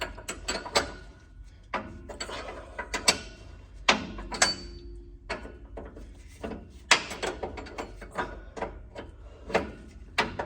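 A socket wrench ratchets on an upper ball joint of a 1963 Buick Electra 225, giving bursts of close clicking with metallic knocks and clanks between strokes, in a quiet garage without talking.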